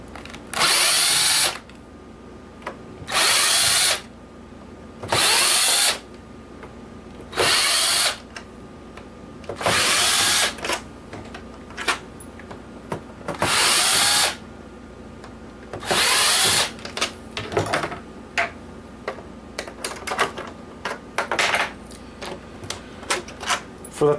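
A power screwdriver whirs in short, loud bursts, about a dozen in all, as it backs screws out of the top of a broken PS3 console, with faint clicks and handling noises between the bursts.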